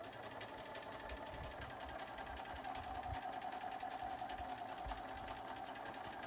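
A sewing machine with a walking foot stitches charm-square tote bag fabric, a quiet, steady rapid whir of the needle running continuously at close range.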